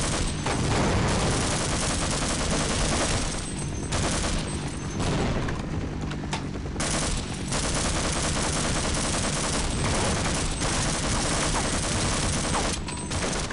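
Rapid automatic gunfire from soldiers in the video game Half-Life, loud and nearly continuous bursts with brief gaps, dense and close for the whole stretch with no talking.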